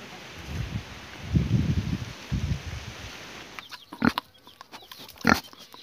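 Pigs grunting at a village farm, a few short, rough grunts close by, partly over rustling and other farmyard sounds.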